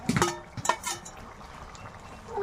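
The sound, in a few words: prawn and potato curry boiling in a pot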